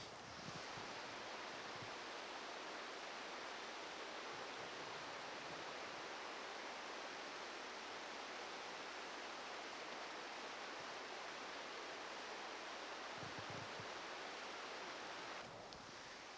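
Hot spring water tumbling down a rocky hillside in Idaho's backcountry, a steady, dense, hissing rush that carries on without a break.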